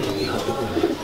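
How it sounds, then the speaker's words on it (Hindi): Soft, low pigeon coos murmur close by in a short burst, with faint background noise. "आज आपको हमने दिखाए साजिद भट्ट साहब और वाजिद भट्ट साहब के कबूतर।"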